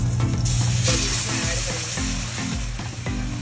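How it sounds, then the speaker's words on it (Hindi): Paneer frying in a restaurant pan for chilli paneer, with a loud, continuous close sizzle and hiss and some clattering stirs over it. "सबसे पहले शायद पनीर को फ्राई कर रहे हैं"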